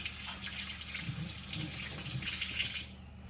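Hands are washed under a running kitchen tap during baking, a steady close rush of water with splashing shifts as the hands move through the stream, fading slightly at the end.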